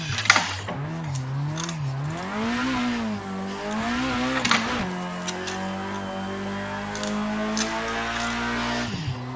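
A race car in a drifting sim game, Formula Sim Drift at St Louis, holds a steady engine drone whose pitch swoops up and down with the throttle, with tire squeal scrubbing underneath and no talk.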